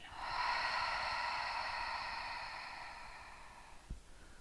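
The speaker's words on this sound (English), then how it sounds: "Open the mouth and exhale." One long, deep exhale through an open mouth, a soft breathy rush close to the ear that swells quickly and fades slowly over about four seconds, followed by a small click.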